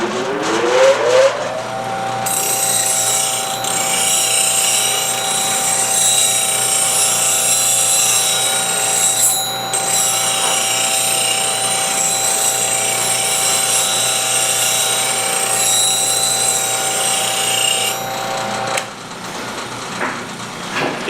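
A bench grinder spins up to a steady high whine while a bowl gouge is ground to a 40-40 grind in a sharpening fixture, then winds down near the end.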